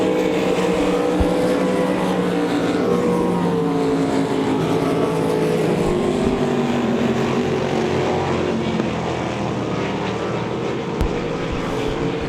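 IMCA Race Saver sprint cars race a heat at Devil's Bowl Speedway, engines droning loud and continuous as several cars circle together, with higher whining tones shifting as they pass.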